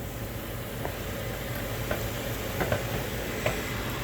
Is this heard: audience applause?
no